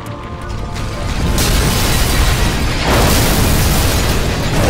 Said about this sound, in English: You're safe to detonate now